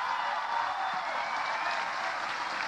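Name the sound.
applause at a campaign rally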